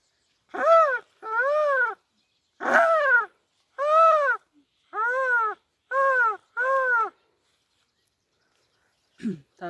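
A human voice imitates a crow with seven loud, harsh caws in an uneven series, each about half a second long with short gaps between them, followed by a brief low sound near the end.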